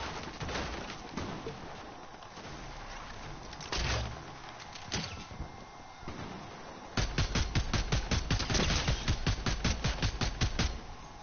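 Gunfire in the video game Fortnite: scattered single shots early on, then a rapid rhythmic burst of automatic fire repeating evenly through the last few seconds, fairly close and sharp.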